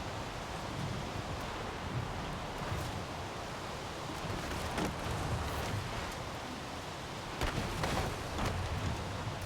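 Steady rain in Forza Horizon 5, a continuous hiss of falling water with occasional sharper splashes, with no voices.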